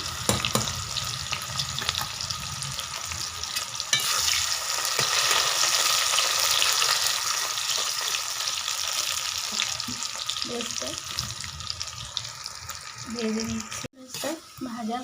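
Long-sliced onions fry in a pan for birista for a home-style chicken curry, a steady, dense sizzle that fills the clip and ends with a few brief clatters of a utensil.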